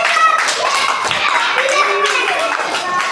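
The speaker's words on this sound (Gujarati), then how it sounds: "તાળીઓ પાડો" Children clap their hands together during a Saturday school game activity in Dediyapada, Narmada, a dense patter of claps running throughout, with young voices talking and calling over it.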